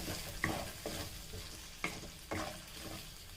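Potato masala with a spoonful of garam masala stirred in a frying pan: a steady low sizzle broken by repeated scraping strokes roughly every second, close and moderately loud.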